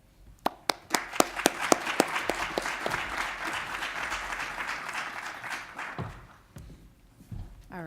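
Audience applause at a virtual and augmented reality symposium welcoming a speaker, starting with a few sharp individual claps that swell into steady clapping across the room, then tapering off.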